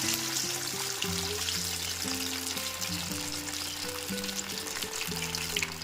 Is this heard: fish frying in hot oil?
yes